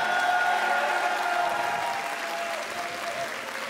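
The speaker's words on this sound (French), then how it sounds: "Mesdames et messieurs, un tonnerre d'applaudissements" A concert audience greets a performer coming on stage with a loud, sustained roar of applause, dense clapping with a tonal musical hum beneath, easing slightly toward the end.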